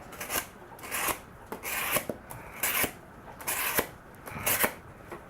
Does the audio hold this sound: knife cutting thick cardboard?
yes